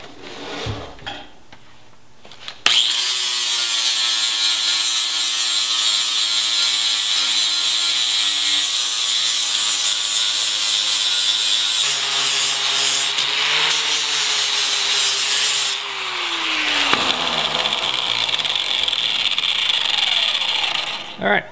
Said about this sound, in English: once both edges start to grind, you know that they're both the same